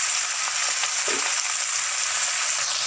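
Cauliflower, potato and capsicum sabji frying on a high flame, a dense, even hiss of sizzling oil that holds steady and close for the whole stretch, with no talking.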